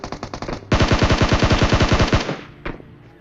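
Automatic gunfire from the video game PUBG on the Erangel map: a few quick shots, then a loud, close, sustained burst of rapid fire lasting about a second and a half, and one last isolated shot before quiet.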